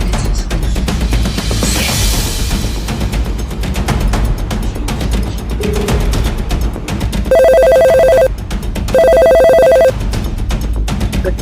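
A telephone rings in two loud, sharp electronic bursts near the end of a short-film scene, following stretches of dense background noise and clatter.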